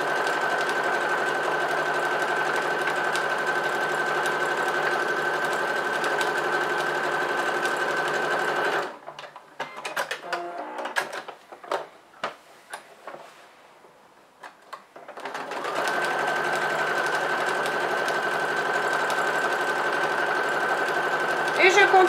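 A sewing machine runs steadily, stitching crossing diagonal quilting lines through fabric, loud and continuous for long stretches, then pauses for several seconds of faint handling clicks before the motor resumes.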